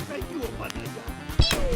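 A single sharp gunshot from a headshot attempt in Escape From Tarkov rings out near the end, loud and close, after a busy stretch of quieter game sounds and faint clatter.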